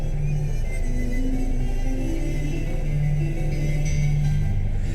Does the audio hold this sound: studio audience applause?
no